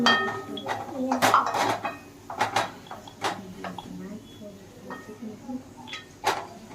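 A spoon stirs vegetable khichdi in a metal pot, giving irregular clinks and scrapes against the pot. The sounds come in scattered bursts close by, with household voices nearby.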